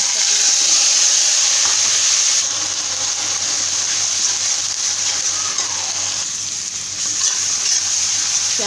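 Cumin seeds and bay leaf sizzle in hot oil left from frying raw banana kofta, a loud bright continuous crackle that eases slightly partway through and carries on steadily, without speech.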